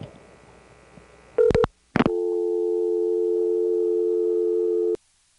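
A 1977 EAX local and toll telephone switch in Rock Hill, South Carolina: a couple of short tone bursts, then a steady, loud continuous tone lasting about three seconds before it cuts off, heard alone.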